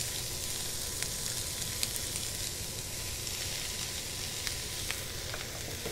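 Baby bella mushrooms and onions frying in a pan give a steady, loud sizzle and hiss with small pops throughout, no voices.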